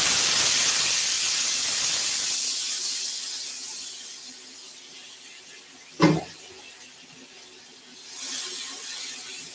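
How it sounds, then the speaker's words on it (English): Onions, peppers, thyme and garlic sauté in burnt curry in a hot pan, giving a steady close hiss that eases midway, with one sharp clatter and no talking. "I'm going to saute this in my burnt curry"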